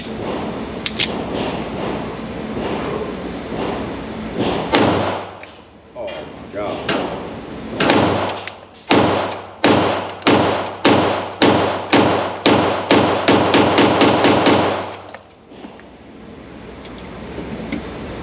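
Rapid strings of pistol shots from a Staccato XC fired at a range, sharp loud cracks coming in quick bursts with a fast regular rhythm in the second half, with voices heard between them.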